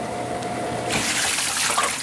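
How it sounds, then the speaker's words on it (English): A household dishwasher running, its steady hum joined by a louder wash of spraying, splashing water that fills the background after a moment, with no talking. "this dishwasher is going"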